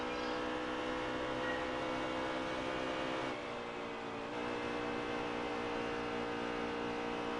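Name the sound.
race car engines passing by in a NASCAR video game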